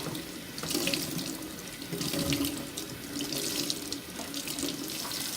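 Steady tap water runs into a sink while felted soap is squeezed under the stream, a continuous close splashing rush with slight surges and no voices.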